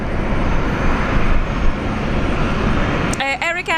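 An EVA Air Boeing 787 Dreamliner jet at Brisbane airport, a loud continuous engine rumble filling the whole stretch, then a voice cuts in briefly at the very end as the roar drops away.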